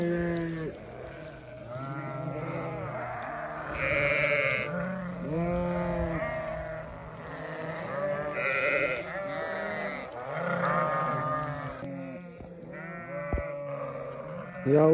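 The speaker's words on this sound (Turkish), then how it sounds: "Bir tane kuzu da kaçtı geldi." Sheep and lambs bleat repeatedly on a farm in spring, several overlapping calls near and far in irregular bursts, some high and thin, others deeper, over faint background noise.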